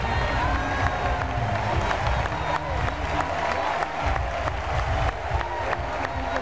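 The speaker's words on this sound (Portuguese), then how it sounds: "aproveite agora para aplaudir o Senhor e faça barulho agora" Church congregation at a Christmas service claps and cheers together, a loud, continuous mix of applause, shouts and crowd noise with voices mingled in.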